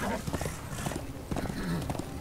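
Horse galloping in the video game Darksiders II, rhythmic hoofbeats with a player talking over them.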